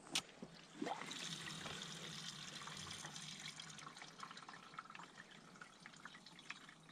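Gasoline poured from a can into the tank of a small engine at an off-grid camp, a steady close liquid trickle and gurgle running continuously from start to finish.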